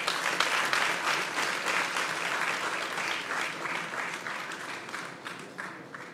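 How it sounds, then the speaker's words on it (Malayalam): Warm, steady applause fills a hall as an audience welcomes Mammootty to the stage at M.T.'s 91st birthday celebration, a dense wash of clapping that holds evenly for several seconds. "സ്നേഹപൂർവ്വം നിറഞ്ഞ കൈയടി കൊടുത്തുകൊണ്ട് എം ടി സാറിന്റെ 91st പിറന്നാൾ ആഘോഷിക്കുന്ന ഈ ഒരു വേദിയിലേക്ക് സ്വാഗതം ചെയ്യുകയാണ് മമുക"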